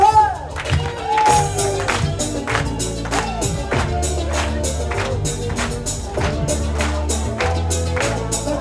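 An audience claps along in rhythm with a live Brazilian-style song and drum beat, steady claps running through the music with a busy crowd feel throughout.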